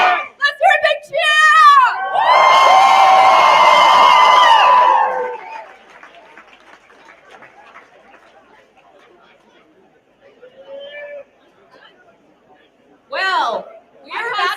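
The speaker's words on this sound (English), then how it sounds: "Let's hear a big cheer!" A festival crowd at Boulderfest 2022 lets out a loud, sustained cheer with whoops and screams for about three seconds, then settles into quiet murmuring chatter; a host's amplified voice talks before and after.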